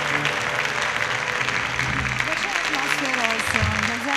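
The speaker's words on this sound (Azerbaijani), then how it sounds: "Alqışlayaq" A studio audience claps steadily and loudly for the whole stretch, with a tonal musical line rising and falling underneath the dense applause.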